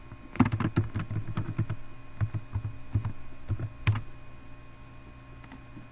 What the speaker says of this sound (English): If I can type my password right.